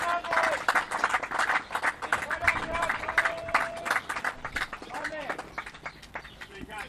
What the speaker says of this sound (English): You can hear the applause in the background there